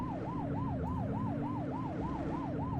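A police car siren wails in the video game The Precinct, cycling rapidly up and down in a steady, loud pattern over a low engine hum.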